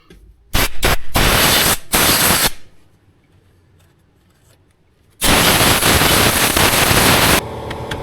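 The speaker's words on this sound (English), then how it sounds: "just blow everything out." Compressed air blasts through gearbox parts in loud, harsh bursts: a few quick spurts, then sustained roaring blows, a quiet pause, and another long blast, all close to the microphone.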